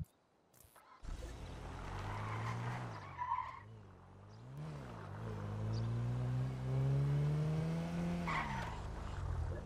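A car in the video game GTA V revs and drives with tire squeal and skidding, the engine pitch rising and falling in waves and then climbing as it accelerates, loud and close throughout.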